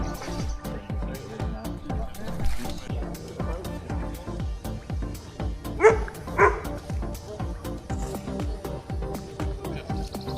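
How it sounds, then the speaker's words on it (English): Dogs bark and yip in the distance beside a mixed fishery, with a few short, sharp calls rising over a steady rhythmic knocking and faint outdoor noise. "Oh, dogs."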